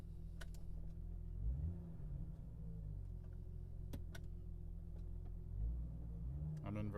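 A 1996 Jeep Cherokee engine idles and revs while in reverse gear, a steady low rumble with slight swells in pitch, close and continuous, with a brief click near the end.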